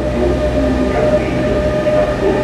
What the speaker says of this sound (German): Da kommt ein Kofferzug.